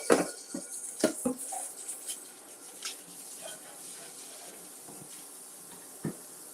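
A pan being rinsed out in a kitchen sink, with clanks of metal against the basin at the start and near the end and a soft wash of running water between, fairly quiet and close.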